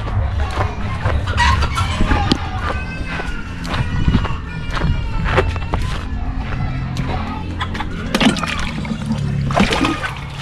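Chickens on a provincial vegetable farm during hot weather, clucking and crowing in repeated short calls over a steady outdoor background, close and fairly loud with no talking.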